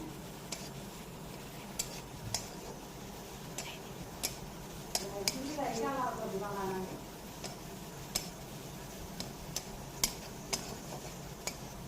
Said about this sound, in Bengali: পেঁয়াজ আমার হালকা ব্রাউন কালার হয়ে গেছে, আর একটু ভেজে নিয়ে